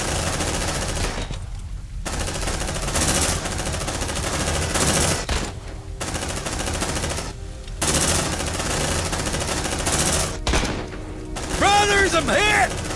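Sentry gun in the video game Aliens Dark Descent firing sustained automatic bursts, broken by short pauses, loud and close, with other combat sounds and shrill alien screeches near the end; voices call out in the background.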